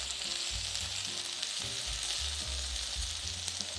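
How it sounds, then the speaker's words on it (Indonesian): Red chilies sautéing in a hot pan give a steady broadband sizzle with soft stirring scrapes, close and continuous, no talking. "Kemudian kita masukkan cabai merahnya. Cabai merah kita tumis"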